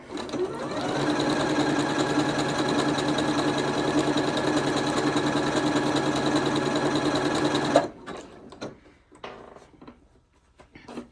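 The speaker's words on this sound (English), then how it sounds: "I'm just going to start stitching this design" Janome Horizon Memory Craft 8200 QC sewing machine stitching a design: a loud, steady, fast mechanical whir runs for about eight seconds, then stops, leaving quiet clicks and handling sounds.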